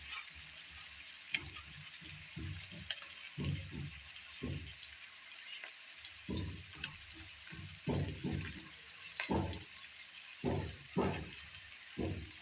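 Sliced onions frying in hot oil with bay leaf, cinnamon and cloves for a country chicken curry: a steady faint sizzle with intermittent scraping stirs in an irregular rhythm.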